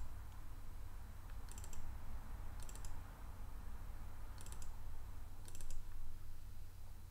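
Computer mouse double-clicked twice, two pairs of sharp, light clicks at a steady pace, close up over a low steady hum of background noise.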